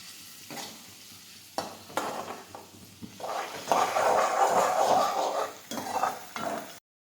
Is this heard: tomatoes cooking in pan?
yes